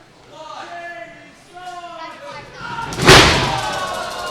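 Talk from a commentator, then a single heavy thud with a loud burst of crowd-like noise as a wrestler's missed senton from the top turnbuckle slams down on the ring mat at a wrestling event.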